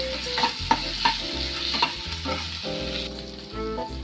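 Ginger garlic paste frying with lightly browned onions in a home kitchen pan: a continuous close sizzle broken by repeated scraping stirs of a utensil, with no voices.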